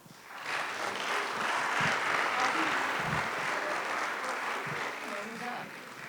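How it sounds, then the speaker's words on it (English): A school awards ceremony crowd breaks into warm, continuous applause, a dense roar of many hands that holds steady before tapering slightly. "So please give them another round of applause"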